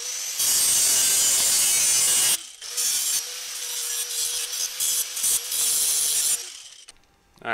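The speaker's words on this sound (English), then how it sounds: "just kind of came through here with a worn out flap disc" Grinding on a steel body panel for a 1962 Willys Station Wagon with a worn flap disc: a harsh, loud hiss runs for about two seconds, breaks off, then resumes in a rougher, choppier pass with a faint steady whine beneath.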